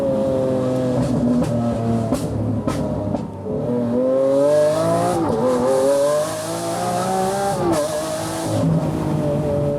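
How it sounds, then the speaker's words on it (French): A loud sports car drives on a small closed private road, its engine revving up and down with shifting pitch and occasional tire squeal, close and dominant with no talk. "elle fait du bruit ta voiture"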